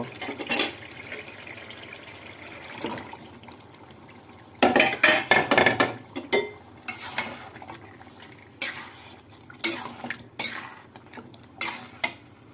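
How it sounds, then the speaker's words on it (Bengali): Beef being stirred into spice paste in a cooking pot: scraping and clattering bursts of a spoon against the pot, loudest in a cluster midway, over a steady low sizzle. "একটু নাড়াচাড়া করে দিলাম। এখন গরুর গোস্তগুলো আমি ঢেকে দেব।"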